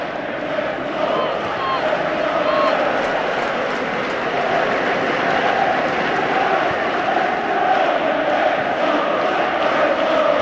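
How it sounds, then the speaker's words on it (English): Football crowd at Chelsea versus Tottenham, an FA Cup quarter-final, singing in a steady, loud, dense roar of massed voices that carries on without a break throughout. "Plenty of singing in the crowd."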